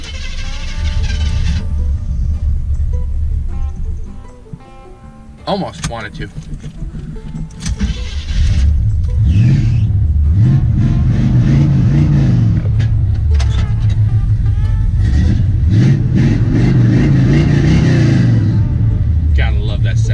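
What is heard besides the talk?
squarebody Chevrolet truck engine starting and revving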